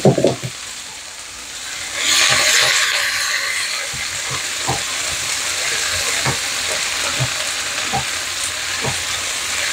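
Vegetables sauté with garlic in a hot pan, a loud steady sizzle that surges as the food goes in and then settles into a constant hiss with light stirring clicks, close by and without voices.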